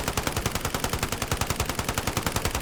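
Rapid automatic gunfire from a gun in Call of Duty: Modern Warfare, a steady stream of loud, evenly spaced shots at a somewhat slower fire rate, close and continuous with no pauses.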